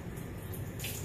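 Hot water runs from a tap for rinsing home-brewing gear, a short, soft, steady splashing stream at moderate distance.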